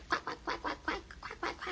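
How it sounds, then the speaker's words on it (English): Ducks quack in a quick, regular series of about eight nasal calls, close and fairly loud, with no voices over them. "Only ducks and chickens make noise."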